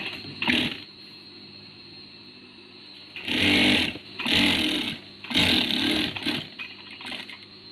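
A sewing machine stitches bag parts in several short bursts, each a rapid close mechanical whir lasting about a second, separated by quiet pauses with faint handling sounds.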